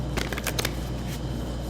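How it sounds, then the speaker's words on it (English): A deck of cards is shuffled close up, a quick flurry of riffling clicks at the start that fades into a low steady room hum. "So let's shuffle the cards"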